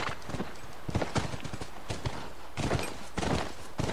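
Horse hooves in the game The Last of Us clip-clop in a brisk, uneven rhythm, fairly quiet and continuous, with no voices over them.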